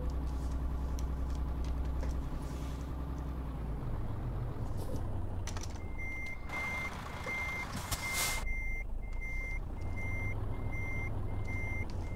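A truck in Euro Truck Simulator 2 backs up, its reversing alarm beeping in a steady repeated pattern over a constant loud engine drone, with a brief hiss of air brakes partway through.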